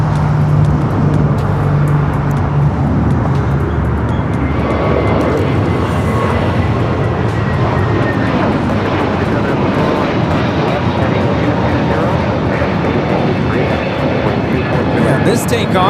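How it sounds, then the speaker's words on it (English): United Airlines Airbus A321neo taking off at LAX for Denver, a loud sustained jet engine roar that fills the whole stretch. Road traffic and voices are faintly mixed in. "This takeoff is United Airlines 2302, taking off to Denver, Colorado on the A321neo."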